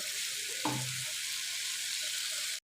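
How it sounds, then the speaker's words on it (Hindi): Meat for kaddu gosht fries in a pot with a steady, close hiss of sizzling, broken by a brief stirring knock early on, then cut off abruptly at the end. "तो इसे अब मैं 5-7 मिनट सही भूनूंगी कि इसका अपना पानी जो है वो बिल्कुल खुश्क हो जाए।"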